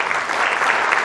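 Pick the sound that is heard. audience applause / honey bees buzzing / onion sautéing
audience applause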